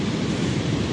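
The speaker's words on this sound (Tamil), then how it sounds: "நல்லா இருக்குதாண்ணா, ஃபுல் காற்றடிக்குது" Strong wind blows steadily at a waterside spot, a dense, even roar of buffeting noise with no breaks and no voices.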